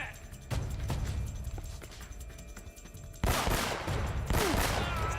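Gunfire in the video game Uncharted: Drake's Fortune, with sharp repeated shot bursts and a loud volley near the end over a busy game-audio bed.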